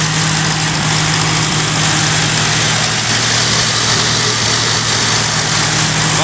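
An old Ford NAA Jubilee tractor engine, just repaired for oil and fuel leaks, idles close by with a loud, steady low rumble and even throb that holds unchanged throughout, no voices.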